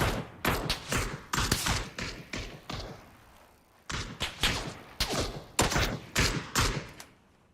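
Bursts of rapid video game gunfire in quick clusters, sharp and punchy, with short pauses between volleys.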